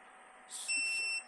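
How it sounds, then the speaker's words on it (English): A few short electronic beeps from a Wevac CV10 chamber vacuum sealer finishing its cycle, clear and steady, over a quiet background hum. "Gives you 3 beeps."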